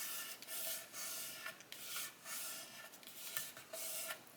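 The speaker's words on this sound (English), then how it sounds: "I just push my spine down and burnish that into place." A paper journal spine is pressed and burnished into place on an envelope journal, giving repeated close dry rubbing strokes in a steady back-and-forth rhythm.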